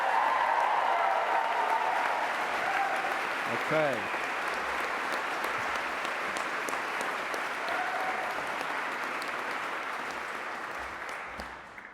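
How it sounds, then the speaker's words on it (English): Graduation audience at a Greenwich university ceremony giving a sustained, loud round of applause with scattered cheers, steady dense clapping that tapers off at the end, with a brief spoken word near the close. "give yourself as much applause as you can"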